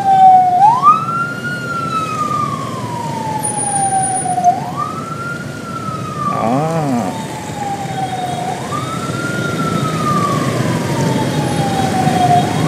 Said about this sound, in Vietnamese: Nhường cho xe cứu thương nó chạy trước anh chị.